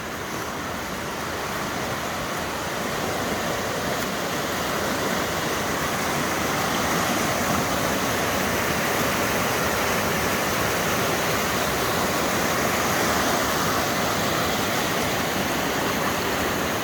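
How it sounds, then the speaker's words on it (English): A river rushes steadily, with a loud, constant broadband roar of flowing water that never lets up. "The sound of that river"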